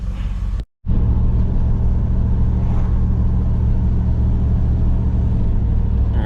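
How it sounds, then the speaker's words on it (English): A Camaro drives down Bridge Street in New Cumberland, PA, its engine a steady low rumble with road noise, heard from inside the car, loud and continuous after a brief dropout near the start. "there we are driving down Bridge Street, New Cumberland, PA"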